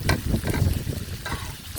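Food sizzles and crackles loudly in a hot pan, with stirring scrapes breaking through the steady frying hiss.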